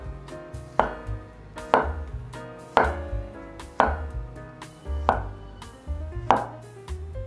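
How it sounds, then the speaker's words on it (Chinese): A knife slicing mushrooms on a cutting board, seven evenly spaced, crisp chops roughly one second apart, close and clear, each followed by a short wooden knock as the blade meets the board. "把蘑菇切片"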